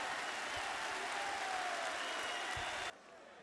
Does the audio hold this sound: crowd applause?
yes